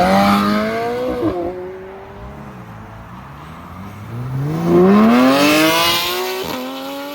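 Porsche 911 GT3 RS pulls away hard from a small car meet, its engine rising in pitch through the gears with a loud, rasping exhaust wail that swells and fades as it drives off.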